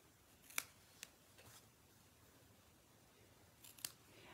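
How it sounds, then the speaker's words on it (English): Scissors snip through paper or ribbon while making an Easter basket, a few sharp, quiet clicks spaced irregularly, close and alone in a quiet room. "I'm going to snip that off at this end."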